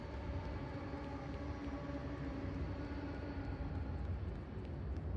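Low, steady rumbling ambience of the underworld train station in Shin Megami Tensei IV Apocalypse, a quiet droning hum with faint tonal lines that continues evenly without speech.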